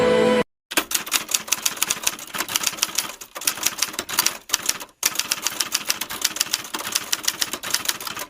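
A typewriter clacks out the proclamation text in rapid continuous keystrokes, loud and close, with a couple of brief pauses and no talk.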